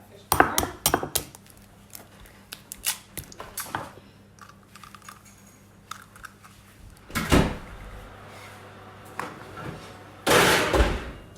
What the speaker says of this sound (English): this is cracking eggs and mixing them